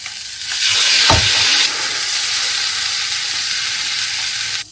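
Marinated meat sizzles loudly in a kadhai, a steady frying hiss with a brief stirring swell near the start, close and continuous with no talk.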